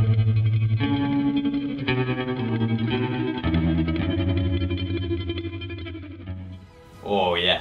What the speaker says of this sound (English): it's basically like a hillbilly version of the island theme.